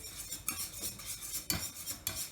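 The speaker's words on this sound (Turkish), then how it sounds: "Karıştırmaya devam ediyorum" Utensil scraping and clinking against a pot while béchamel sauce is stirred over low heat for lasagna, with several distinct scrapes in an irregular rhythm, close and moderately quiet.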